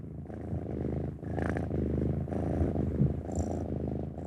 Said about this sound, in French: Le ronronnement est la marque de fabrique du chat.